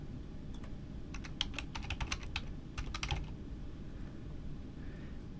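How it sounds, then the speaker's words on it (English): Someone types a file name on a computer keyboard, producing a quick, irregular run of light key clicks over about two seconds, faint against a steady background hiss. "Enter the file name."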